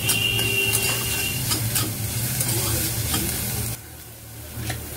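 Onions fry in a pan for sambar, giving a steady, close sizzle broken by frequent stirring scrapes. The level dips slightly near the end, and no one speaks.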